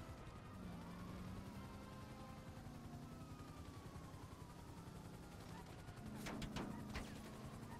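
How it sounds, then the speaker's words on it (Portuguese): GTA 5 gameplay while driving a slow Volkswagen Beetle chased by a helicopter: continuous engine drone with a rapid burst of gunfire near the end, faint and mixed in the game sound. "Nossa, tô tomando tiro."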